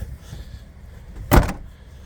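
A Skoda Superb Kombi estate's large tailgate shuts with a single solid thud near the middle, against faint background rumble.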